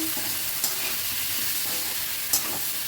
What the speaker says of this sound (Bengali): দিয়ে আবারও সব কিছু ভালো করে মিশিয়ে মশলাটাকে সঙ্গে ভালো করে কষিয়ে নিচ্ছি।